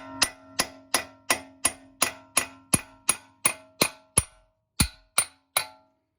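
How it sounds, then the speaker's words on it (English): A small punch taps a CV axle out of the steering knuckle on a 2000 Toyota Sienna, giving about fifteen sharp metallic strikes in a steady rhythm, close and ringing, with a short pause before the last three. "You can just use a small little punch to tap it out."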